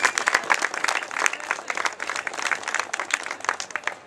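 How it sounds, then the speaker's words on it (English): Crowd at an Occupy Boston gathering applauding steadily for about four seconds, dense clapping at moderate distance with no talk. "Give yourselves a round of applause for that."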